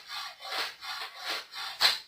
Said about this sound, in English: you just let the saw do the work